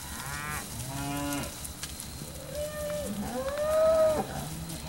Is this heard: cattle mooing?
yes